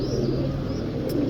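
A breeder pigeon from Faisalabad gives a low, soft cooing close by. The cooing holds steady under a high electronic whine and a faint background hum.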